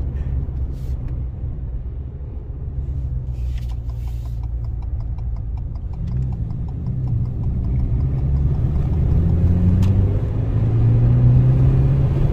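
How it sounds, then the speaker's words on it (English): A 2022 Ford Maverick with a Magnaflow Street Performance exhaust drones steadily while driving. The low, even exhaust rumble slowly rises in loudness and pitch, with no talking. "So yes, I'm enjoying the Magnaflow Street Performance exhaust."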